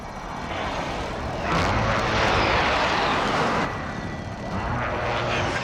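A helicopter in the video game Call of Duty: Warzone roars overhead with a broad rushing engine and rotor noise that swells louder in the middle, then eases back to a steady drone.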